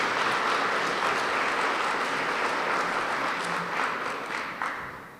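A crowd at the 2025 State of the City Address in Jackson, Michigan, applauds city staff with steady, dense clapping that holds loud throughout and tapers slightly at the end, with no voices over it.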